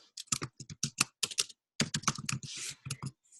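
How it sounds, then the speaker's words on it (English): Someone types quickly on a computer keyboard, close and clear, in short bursts of crisp key clicks with a brief gap in the middle and a slightly longer rattle near the end. "And then I'm typing it in the actual typeface"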